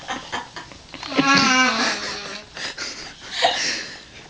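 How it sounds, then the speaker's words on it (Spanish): A person snoring loudly: one drawn-out, wheezing snore with a raspy voiced tone rises about a second in, then shorter breathy snorts follow, close and fairly loud. "Estás roncando, pero a lo lindo."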